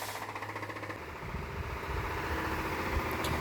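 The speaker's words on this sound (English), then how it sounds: "Main pump is on." The main fuel pump runs in a Datsun 510 with a swapped SR20DET engine, giving a steady mechanical drone and buzz, with a pulsing rhythm early on that smooths into a continuous hum, fairly close and moderately loud.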